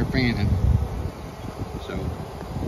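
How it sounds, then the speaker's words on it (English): Honeybees from a swarm buzz and fan at a hive frame outdoors in wind, a steady close droning hum with faint voices in the background. "As you can see, there's bees in there fanning."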